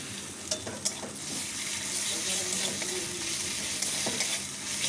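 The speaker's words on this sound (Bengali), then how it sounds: "আদা রসুনের পেস্টটা দিয়ে ভালো করে কষিয়ে নেব" Ginger garlic paste added to browned onions and fried, a dense continuous sizzle with a few scraping stir strokes, close and moderately loud, no talking.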